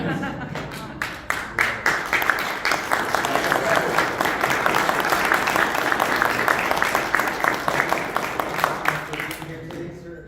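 A convention panel audience applauds in a dense, sustained wave of clapping that swells after a few separate early claps and keeps going for around ten seconds, with voices heard faintly underneath.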